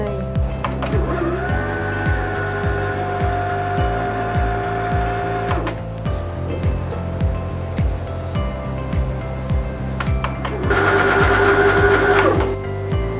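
Janome DC6050 portable sewing machine winding a bobbin, a steady close mechanical whir with rhythmic clicking that runs continuously and grows slightly louder near the end.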